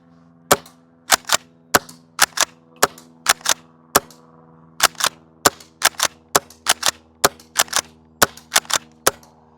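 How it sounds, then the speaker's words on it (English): A Golden Eagle KSG airsoft shotgun fires BBs in about two dozen sharp, loud, close snaps, falling in irregular pairs and short bursts over a low steady hum. "Let's make sure it fires all 3 BBs to start off."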